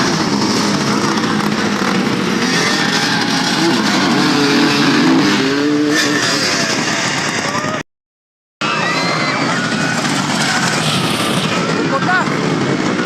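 Motorcycles in a street race roar past at close range, loud engine noise swelling and fading with shouting voices over it, broken by a brief dropout partway through.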